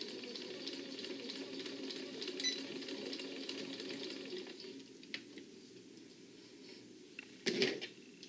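A sewing machine stitches a seam on an organizer bag, a soft rapid whirring run for several seconds that fades off, followed by a brief clunk near the end.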